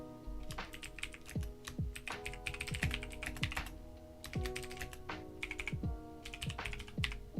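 Fingers type in irregular bursts on a computer keyboard, keys clacking close and quietly with short pauses between runs.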